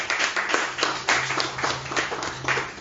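Church congregation clapping hands together during a Sunday worship service, a dense, rhythmic burst of applause-like claps with steady beats, moderately loud and close, no speech.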